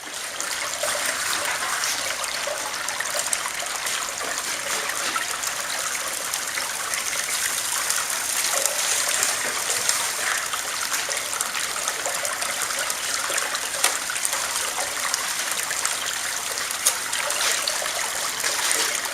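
Water flows and trickles steadily through a gold sluice at a fine gold cleanup station, a constant close splashing rush with no pause and no talk.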